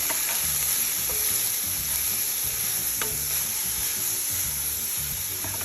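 Food frying in a home cook's pan is stirred, with a steady close sizzle and scraping spoon strokes repeating throughout, no voices.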